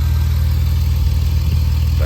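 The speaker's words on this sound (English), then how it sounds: "Sounds like it's got a little bit of an exhaust leak, maybe on that side, driver's side cylinder bank" A 2010 Jeep Wrangler engine idles with a suspected exhaust leak on the driver's side cylinder bank. It gives a steady, close, low rumbling hum with an even pulse throughout.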